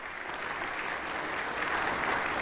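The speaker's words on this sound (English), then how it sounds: "Big applause for the guy who's managed to lose 12 straight speaker elections despite being in the majority" Steady applause fills the US House chamber during a Speaker of the House vote, a dense, continuous clapping from many people that holds at an even, fairly loud level with no talking over it.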